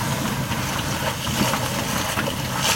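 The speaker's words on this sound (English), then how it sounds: "there are waves and wind here" Continuous wind noise and churning water around a sailboat in gale-force wind of 12 to 15 meters per second, a rough, steady wash with a low rumble underneath, no talking.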